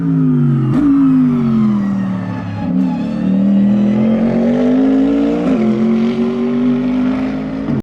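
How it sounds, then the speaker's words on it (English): Loud Porsche GT3 Cup race cars with near-straight-pipe exhausts roaring past close by at a racetrack in the evening, engine pitch rising and dropping as each one goes through the gears. "We were listening to the GT3 Cups with basically straight pipes going by"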